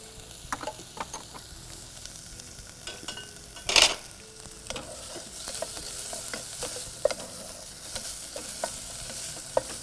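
Coriander, mint and chopped spring onion frying in hot butter in a pan, with a steady soft sizzle, scattered stirring clicks and scrapes, and one louder clatter near the start.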